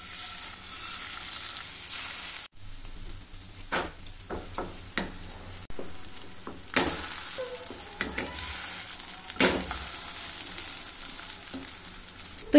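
Broccoli and paneer tikkis fry in a spoonful of ghee in a pan, giving a steady close sizzle with scattered pops and crackles, plus a few soft scraping and stirring clicks.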